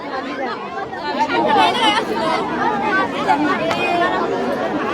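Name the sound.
crowd of thousands of people gathered around a landed airplane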